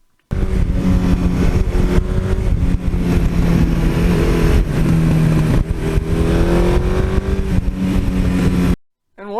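A Suzuki GS1100E motorcycle engine running steadily and loudly up close, with a rich low droning tone and slight rises in revs, lasting about eight seconds before cutting off abruptly.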